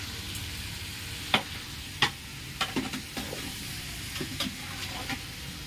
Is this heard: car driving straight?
no